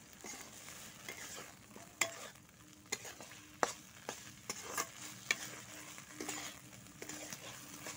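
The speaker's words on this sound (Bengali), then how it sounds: "খুব ভালো করে নাড়াচাড়া করে এইভাবে কিন্তু মিশিয়ে নিতে হবে" Mashed flat beans are stirred and fried in oil in a wok: steady sizzling with repeated scraping and knocking strokes of the spatula, close and clear, with no voices.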